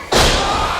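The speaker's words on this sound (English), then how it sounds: "Just lifting up the machine and slamming him down on that knee." A heavy body thud as a wrestler is slammed down onto an opponent's knee during a CCW pro wrestling match, one loud impact followed by a sustained crowd-like wash of noise.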